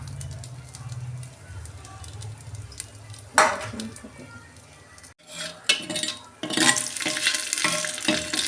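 Cumin, two or three dried chilies, bay leaf, cardamom and cinnamon dropped into hot oil for handi mutton, with a crackling sizzle, clinks of a utensil against the pan, and a voice talking over parts of it.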